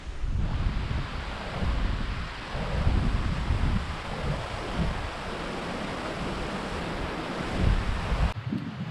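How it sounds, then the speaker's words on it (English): Rushing water in a Minnesota outdoor setting, a continuous loud broadband roar with heavy low rumble and wind buffeting on the microphone, steady for the whole stretch with no voices. "Rushing water. One of the best sounds in nature, man."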